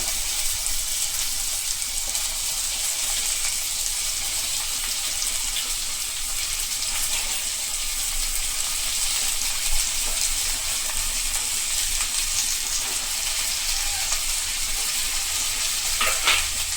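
Tomato and cauliflower fry in a pan for a cauliflower curry, giving a loud, steady, continuous sizzle from start to finish with no talk.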